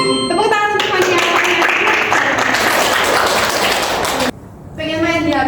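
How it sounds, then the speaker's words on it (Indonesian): A class of students applauding a classmate during a maths lesson on the Pythagorean theorem, loud, dense clapping for several seconds, with a voice speaking before and after. "Tepuk tangan untuk Fania."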